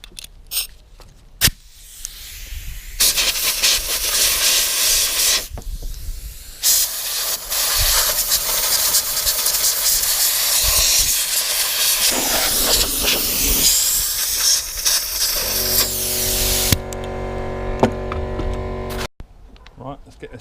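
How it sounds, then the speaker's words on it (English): Compressed air from an air compressor blasts off lawnmower parts in loud hissing bursts of varying length, close by with short pauses between them, and someone talks in places. "Just going to give it a quick blow off with the old compressor."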